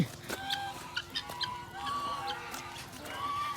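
Guinea fowl on a farm cluck and call in sharp, bright bursts close by, with brief flurries of movement between calls and a steady low background hum, no talking.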